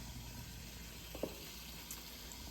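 Cocktail sausages cut into spoon-size pieces cook in oil for gumbo, giving a faint, steady sizzle and fry hiss with a couple of small pops, no voices over it.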